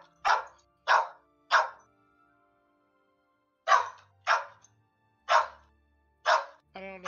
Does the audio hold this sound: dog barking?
yes